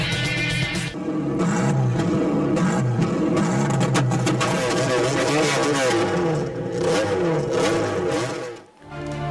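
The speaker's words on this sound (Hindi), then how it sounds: "हैवी बाइक्स की घनघरज ने समा बांध दिया।" Heavy motorbikes roar and rev at an auto show, loud throaty engines overlapping in a steady dense rumble with rising and falling revs, dipping briefly near the end.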